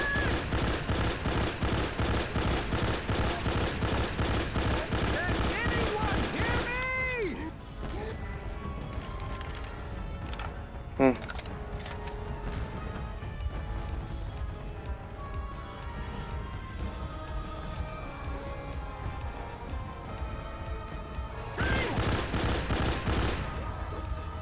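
Rapid video-game gunfire, dense repeated shots filling the opening seconds and returning near the end, with quieter game sounds and effects in the middle stretch.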